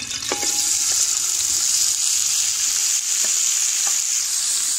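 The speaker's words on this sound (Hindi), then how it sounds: "प्याज को अब हम गोल्डन ब्राउन कर लेंगे" Sliced onions frying in hot oil for chicken kaleji pota pulao, a loud constant sizzle close by with a few short clinks of a spoon against the pan.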